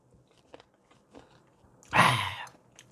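Fermented skate (hongeo) is chewed close to the microphone, with a few faint soft clicks before a single loud, wet crunching bite that fades quickly.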